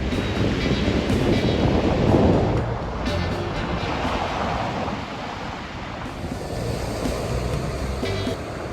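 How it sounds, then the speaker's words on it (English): Waves wash steadily onto a large lake beach at Old Woman Bay, a continuous loud roar of surf with some wind buffeting, no voices. "It's this giant lake beach that literally looks like you're on the Pacific Ocean."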